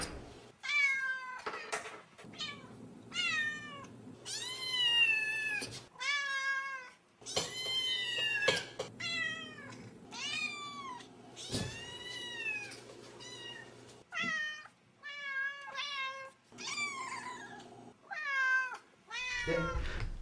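A cat meows over and over, loud and close, with short gaps between the drawn-out cries and no talking.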